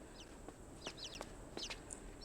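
Chickens cluck in the video game Inside, with several short bursts of clucking spread across a couple of seconds over a low steady background hum, fairly quiet and with no talk.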